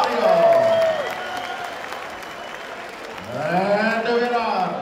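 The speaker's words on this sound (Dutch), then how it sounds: "Dames en heren, geef de beide mannen het applaus dat ze verdienen." Crowd applause for two boxers after an international bout fills the room as a steady roar beneath a loud announcer's voice that speaks over it near the start and again at the end.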